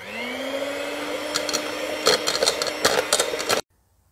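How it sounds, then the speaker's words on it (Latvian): Soft room-temperature butter is whipped in a bowl with a loud, close motorized whir and scraping clatter, ending abruptly in silence after a few seconds. "Liekam sviestu bļodā un putojam."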